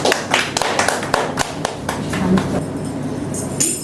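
A church congregation applauding to welcome Jesus Christ before praise and worship, a burst of loud, close clapping in an uneven rhythm that gradually thins and fades toward the end.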